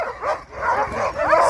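Sled dogs let out several short, excited yips and barks in quick succession, close and fairly loud, mixed with eager whimpering.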